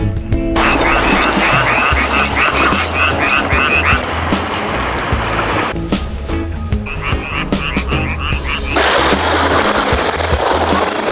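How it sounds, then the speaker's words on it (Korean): A dense chorus of frogs croaks loudly and continuously on a mountainside on Geumodo island, South Korea, rapid rhythmic calls layered over each other with steady outdoor background noise. "아, 개구리 소리."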